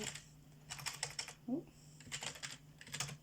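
Fingers type on a computer keyboard in short bursts of quick clicks separated by brief pauses, close up, with a low steady hum underneath and a faint murmur in the middle.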